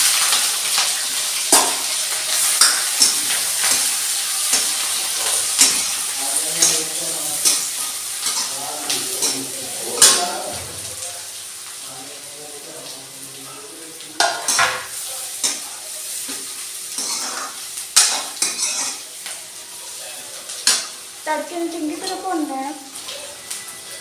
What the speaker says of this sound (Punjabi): ਸੋ ਹੁਣ ਆਪਾਂ ਪਿਆਜ਼ ਪੱਤੇ ਜਿਹੜੇ ਕੱਟੇ ਨੇ ਉਹ ਪਾ ਦੇਣੇ